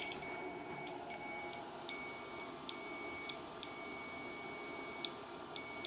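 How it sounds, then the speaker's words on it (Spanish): A multimeter set to continuity mode gives repeated high-pitched electronic beeps, several bursts of uneven length separated by short gaps, over a low steady hum. "cuando yo voy con el multímetro a medir esta función, que es la función de continuidad"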